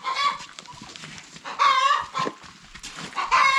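Chickens clucking and squawking in a nearby farm pen, with bursts of agitated calls rising and falling through the clip, fairly close and alone without talk.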